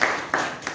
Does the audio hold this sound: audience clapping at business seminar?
yes